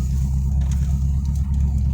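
A car pulls out onto the road in stormy weather, with a steady low engine rumble and road noise close inside the cabin, alone without talk.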